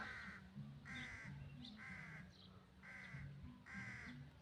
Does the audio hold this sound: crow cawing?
yes